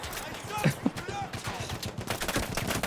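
Gunfire in the video game Battlefield 1 rattles in rapid bursts and scattered shots, mid-distance and fairly quiet, over a dense, steady background of game noise.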